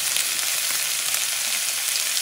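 Steady, dense sizzling of ribeye steak frying in a hot pan, a continuous crackling hiss with small pops throughout and no voices.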